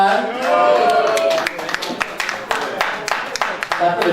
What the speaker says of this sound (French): Tapez les mains pour le couple.